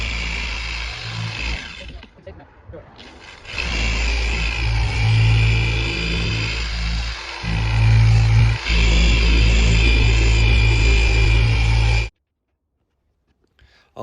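Electric polishing machine with a microfiber pad and strong polish working swirls out of 2017 Audi S5 paint, a loud steady motor whine that dips briefly, then cuts off abruptly before near silence.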